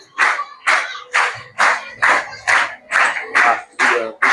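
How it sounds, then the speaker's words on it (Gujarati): At a school Teachers' Day ceremony, a group claps together in a steady, rhythmic beat, about nine loud, evenly spaced bursts with short gaps between them. "આપણે જોરદાર તાળીઓ બજાવીશું."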